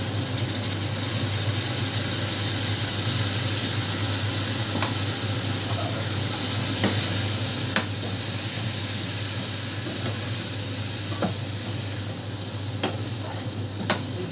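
A paste of cumin, two green chilies and tomato fries with spices in a pan for a Bengali pabda fish curry, a loud continuous sizzle with occasional clicks and scrapes of stirring, no talk.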